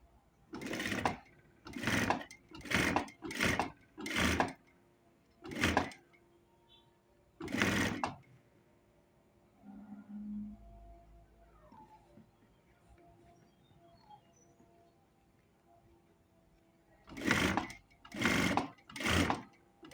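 A home sewing machine stitches a nightgown from a metre of fabric, running in quick, loud bursts of rapid mechanical whirring, several short runs close together, then a quiet pause with faint handling, then three more bursts.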